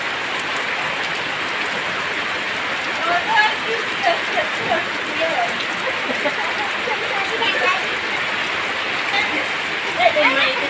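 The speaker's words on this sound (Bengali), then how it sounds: "বাইরে প্রচুর বৃষ্টি" Dense, steady hiss of heavy rain pattering on surfaces, continuous throughout, with people talking faintly underneath.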